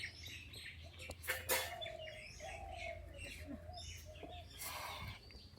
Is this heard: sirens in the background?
no